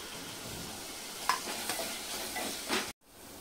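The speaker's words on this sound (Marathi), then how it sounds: "कांदा छान लालसर होईपर्यंत आपल्याला हा परतून घ्यायचा आहे।" Finely chopped onion stir-fried in a pan for prawn pulao, with a continuous close sizzle broken by several spatula scrapes, then a brief gap before the frying resumes.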